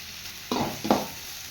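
Tomato and onion frying in a pan, two short bursts of stirring and sizzle against a quiet background, near and moderately loud.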